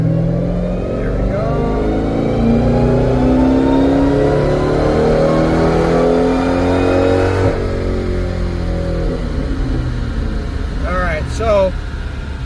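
A boosted car running flex fuel accelerates through a six-gear pull, the engine note climbing steadily, then dipping at a shift and rising again, loud and continuous from inside the cabin.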